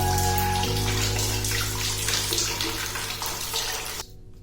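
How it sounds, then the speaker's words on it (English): Water pours steadily off freeform locs during a wash-day rinse, a close, continuous splashing rush like a running shower that thins out and stops near the end. "the water just runs off the lock"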